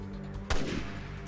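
One sharp, punchy gunshot in Resident Evil Revelations 2, cutting through low background game ambience and decaying quickly.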